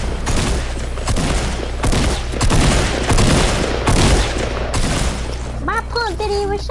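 Pump shotgun and other gunfire in a video game fight, a dense continuous barrage of loud shots and booms throughout, with voices talking over the action near the end.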